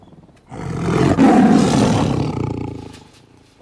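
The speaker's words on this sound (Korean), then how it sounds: "호랑이의 울음소리에 조제는 잔뜩 겁을 먹었죠." A tiger roars loudly at a zoo, one long sustained roar swelling after a quiet start and fading near the end, heard alone without talk.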